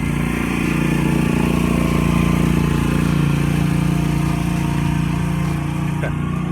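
A lawn mower engine runs steadily nearby, a loud continuous droning hum with a constant pitch throughout and no pauses or talking.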